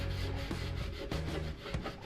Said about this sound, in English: scrubbing this with a lacquer rag